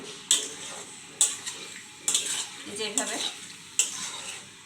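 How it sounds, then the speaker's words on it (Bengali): Chicken dopiaza frying in a pan is stirred with about five sharp scraping strokes at a steady rhythm over a continuous sizzle, close and clear, with a brief spoken word. "এখন আমরা একটু নাড়াচাড়া দিই।"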